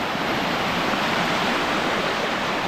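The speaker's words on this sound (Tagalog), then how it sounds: "ang lakas ng agos o mga katrops o" At Gabur Gabur Falls in Peñablanca, Cagayan, powerful flowing water gives off a constant, loud, broadband rush, heard up close and uninterrupted, with no one speaking.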